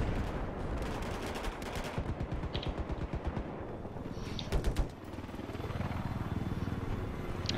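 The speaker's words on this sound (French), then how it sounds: "c'est Joe qui est aux commandes de l'hélico adverse" An enemy helicopter in a video game, its rotor drone running underneath bursts of rapid gunfire that crackle in quick, uneven volleys before easing back to the steady whirring hum.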